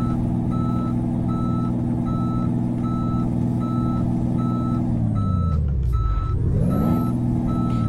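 A truck's steady reversing alarm beeps at a regular pulse over a loud, continuous engine drone that dips in pitch and climbs again near the end, close and unbroken, with no talking.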